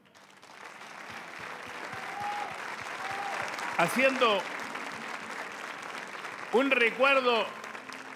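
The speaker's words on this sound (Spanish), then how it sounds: "quisiera un aplauso para ellos." An audience at a Teletón telethon claps steadily, a moderate broad applause building gradually, with a voice speaking and singing over it at a close level.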